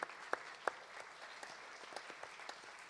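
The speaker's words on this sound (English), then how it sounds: "Just give yourself an applause" At a city council candidate forum, a small audience claps faintly and sparsely, a few distinct loud claps up front followed by thinner scattered clapping in a quiet room.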